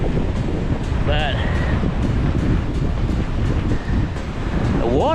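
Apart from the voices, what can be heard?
wind at a fishing pier, wind noise on microphone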